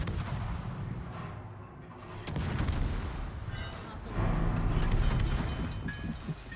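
Warship guns firing in World of Warships: heavy, rumbling salvos with a sharp blast near two seconds and a louder volley around four seconds, dense and close, with a faint voice underneath.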